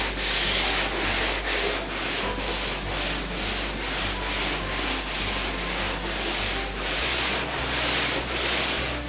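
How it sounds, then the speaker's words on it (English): Hand sanding of wooden canoe strips with 150 grit, working with the grain along the strips: rhythmic, repeated abrasive rubbing strokes roughly every half second, close and steady, with no talking. "It is now sanded 150 all the way around."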